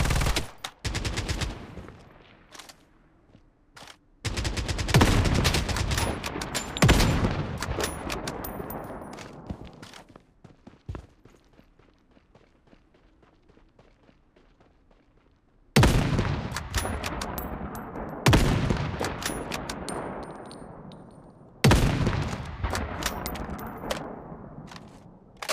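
Bursts of automatic gunfire in the video game Project Bloodstrike, several loud close volleys separated by quiet gaps, each trailing off with echo, and no talking.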